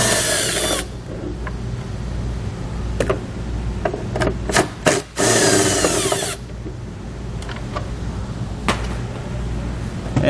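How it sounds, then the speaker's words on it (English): A power tool fitted with a T27 Torx socket spinning out the taillight assembly bolts on a 2017 Chrysler, with loud close whirring bursts, a longer run in the middle and short clicks and pauses between. "we're going to use a T27 torque socket to remove the 2 bolts that hold the assembly in."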